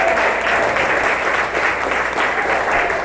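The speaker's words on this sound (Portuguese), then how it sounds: "Pode aplaudir o Senhor, porque é aqui" Sustained applause from a church congregation during a healing and deliverance service, a dense steady clatter of many hands filling the room evenly throughout.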